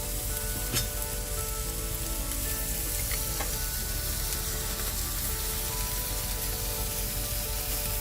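Lean beef burger patty, 92% lean, sizzling and frying steadily on a barbecue grill alongside onions charring, a continuous close crackling hiss with no one talking.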